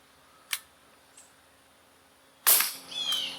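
A Gamo P-430 dual-ammo CO2 air pistol fires pellets: a faint click, then a loud, sharp crack followed by a brief hissy tail, with no talk.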